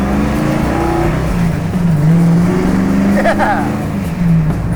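A project car with a bad alignment and a stripped interior pulls hard through its gears, the engine note climbing and shifting steadily and loud throughout, with a brief voice over it.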